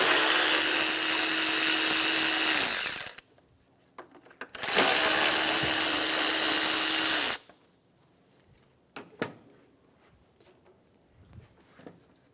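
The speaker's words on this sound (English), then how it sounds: "Remove the two 10mm bolts off the top of the fan assembly." Power tool whirring at a steady pitch in two long bursts while removing 10mm bolts from the top of a 2013-2017 Honda Accord AC condenser cooling fan assembly, followed by faint clinks and handling noises.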